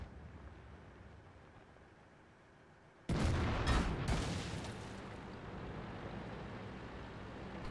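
In a tank video game, a heavy artillery blast erupts suddenly after quiet, followed by a few more close booms and a lingering rumbling tail.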